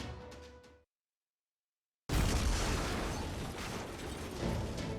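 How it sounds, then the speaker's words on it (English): Video game explosions from Fate/Grand Order: a brief rumble cuts to silence, then a loud, dense wall of blasts and rolling booms takes over and continues steadily to the end. "I can hear some lovely explosions taking place even as we speak"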